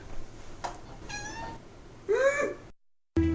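A pet cat meows several times, close and fairly loud, with short drawn-out calls, a brief silence, then one more sharp sound at the end.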